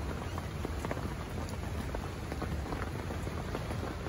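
Steady rain falling outdoors on a gloomy winter morning near rising floodwater, a dense continuous patter on surfaces, loud and close with no voices.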